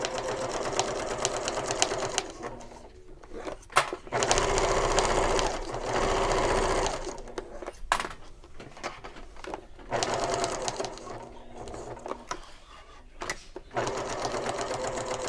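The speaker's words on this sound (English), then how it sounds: "we are stitching all the way around from the exterior side" A sewing machine stitches around the exterior side of a shoulder bag, the motor running in steady stretches broken by short pauses, close and fairly loud, with no talk over it.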